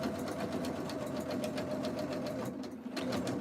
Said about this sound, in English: we're just going to sew up to the corner.